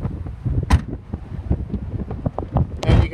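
Gusty wind buffets the microphone outdoors beside a 2011 Nissan Rogue, a low rumbling roar with irregular bursts and rustles throughout.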